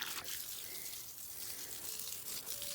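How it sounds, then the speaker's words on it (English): Garden plants being watered at night, a steady, soft rush of spraying water that runs continuously and fairly quietly with no talking. "I just basically water all the plants every other night, unless it rains."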